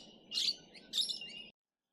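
Musk parrots call in a lakeside park garden in Sydney, two short, shrill screeching bursts fairly close, over a low steady background hum.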